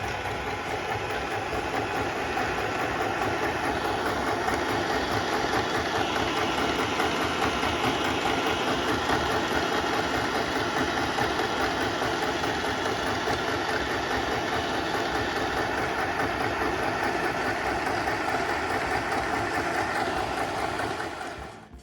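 A domestic sewing machine stitching fabric, running in a steady fast mechanical whir for about twenty seconds before winding down, close and alone.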